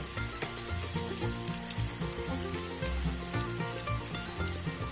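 Corn dogs fry in hot oil while being turned, giving a loud, continuous crackling sizzle with dense popping bubbles and occasional soft clinks, close and steady throughout.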